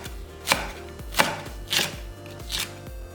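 A knife chops the white part of a green onion on a cutting board in four distinct, evenly spaced strikes, close and crisp with no talking.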